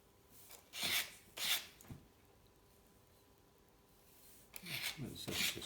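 Sandpaper rubbing on a gravel touring bike part, two short close rasping strokes, a pause of quiet, then a few more scratchy strokes, with no talking.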